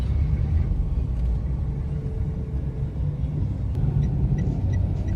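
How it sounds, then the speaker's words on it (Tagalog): Congested road traffic in Tarlac, Philippines, with a constant low rumble of idling and slow-moving cars nearby, a faint hum and a few light clicks on top, no voices. "Traffic."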